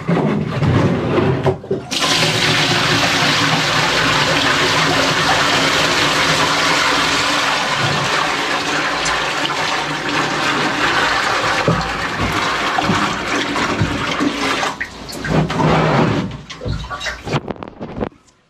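Water gushes steadily into a compartment aboard a steel trawler, fed by a hose, a loud continuous rushing fill that starts abruptly after a short pause, runs unbroken, and tapers off near the end.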